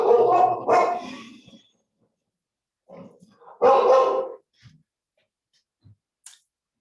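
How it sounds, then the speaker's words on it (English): A dog barks loudly in a home, with a couple of sharp bursts at the start and another around the middle, followed by a few faint yips; no talking over it. "you hear my dog barking loudly in the background"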